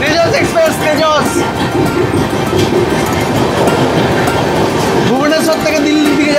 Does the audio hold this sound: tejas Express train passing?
yes